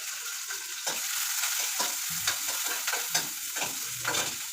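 Spinach stirred and fried in a pan, a close crackling sizzle broken by repeated scraping strokes of a spatula, with no voices over it.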